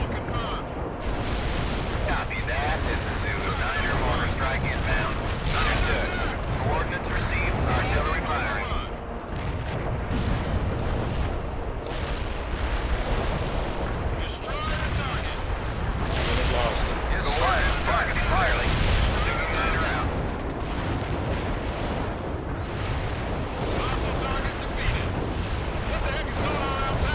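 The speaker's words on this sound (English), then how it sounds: "Mortar strike inbound." Mortar strike explosions in the World in Conflict war game: dense, continuous barrage of booming impacts and gunfire blasts, loud and layered throughout, with radio-style voices talking underneath.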